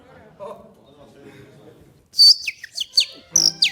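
After a stretch of low murmured talk, a person imitates a bird call, giving a quick series of sharp, high chirps and whistled tweets, loud and near.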